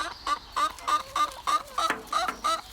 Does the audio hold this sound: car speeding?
no